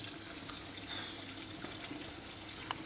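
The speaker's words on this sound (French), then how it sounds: "pour le vin qui coule dans le bac" Fermenting wine trickles from an amphora into a tub, a steady close splashing flow running without a break.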